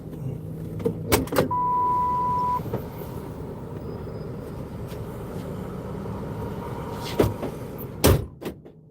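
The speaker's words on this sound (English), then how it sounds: "He just locked, then unlocked the car." A car being locked and then unlocked, sharp mechanical lock clunks heard close up, with a brief electronic beep and a low idling hum between the clicks.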